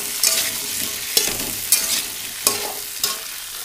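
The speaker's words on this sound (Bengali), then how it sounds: "এবারে আলু আর ডিম কড়াই দিয়ে দিলাম" Potatoes and eggs frying in a wok, a loud hiss of oil broken by about five sharp scrapes of a spatula at a steady pace, close by with no voices.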